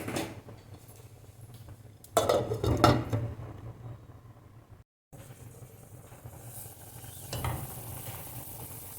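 Sundakkai kulambu, a turkey berry gravy, bubbling in a pan on the stove, with a spoon stirring and scraping against the metal in a few louder bursts over a soft, steady sizzle.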